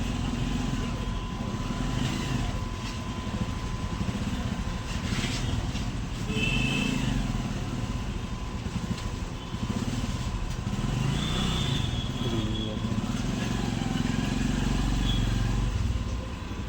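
A sewing machine motor runs steadily throughout. The machine has a fault in which the thread breaks and tangles underneath. Its mechanical whir and rumble hold at a fairly even level, with faint background sounds.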